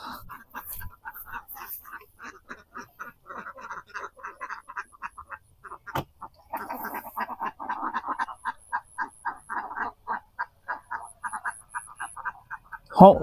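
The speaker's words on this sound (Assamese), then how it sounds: "এইফালে তলত হাঁহ চৰি আছে" Ducks in a riverside village field in Assam quack in quick rhythmic bursts, a busy chorus that grows louder and more regular toward the end, with no talking over it.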